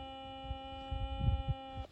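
A Ukrainian ImPULS mine detector gives a steady, buzzy humming signal tone that holds evenly for almost two seconds and then cuts off, with soft handling thumps underneath.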